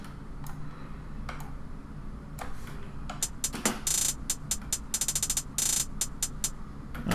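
Sparse ticking clicks give way to a busier trap hi-hat pattern with rapid rolling 16th-note triplet bursts, fairly quiet over a low background hum.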